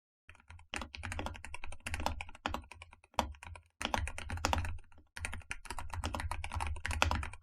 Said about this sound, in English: This feels really smooth. I love the sound. It's not too clicky, it's not too mushy, but it's like slightly tactile.